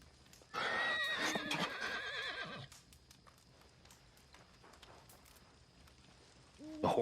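A horse in Red Dead Redemption 2 gives a loud, long whinny close by, with hoof clip-clops around it, then a second neigh starts at the very end.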